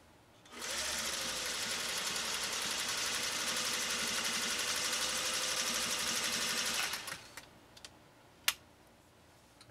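A 1956 Singer 401A sewing machine stitching a pattern, running loud and steady at a fast even whir for about six seconds, then stopping, followed by a few faint clicks and one sharp tap.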